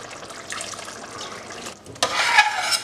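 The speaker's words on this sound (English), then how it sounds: "I'm just going to add a tiny splash of water." Water splashes into a chicken chasni curry in a pan at home, a brief pouring hiss that becomes louder and brighter partway through.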